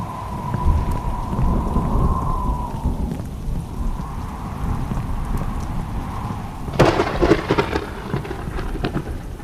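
Steady rain pours in the video game Who is Abby, a dense hiss with a low rolling thunder rumble underneath, and a sharper crackling burst of thunder late on.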